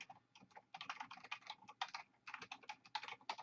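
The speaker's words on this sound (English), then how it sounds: "So let me just type a sentence here." A sentence being typed on a computer keyboard: quick, uneven bursts of crisp key clicks with brief pauses between words, close and fairly quiet, with no talking.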